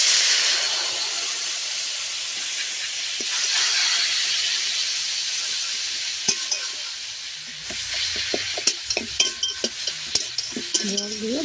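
Water is poured into frying spices for a Bhola fish oil curry, raising a loud, steady sizzling hiss. Later come sharp clinks and scrapes of a utensil stirring in the pan.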